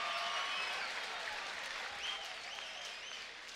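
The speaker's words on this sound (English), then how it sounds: "how about a nice round of applause for both amazing fighters in one hell of a fight?" Crowd at a mixed martial arts event applauds both fighters, a steady wash of clapping and cheering with whistles over arena noise.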